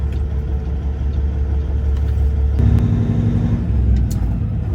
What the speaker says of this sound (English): got some cars coming to our left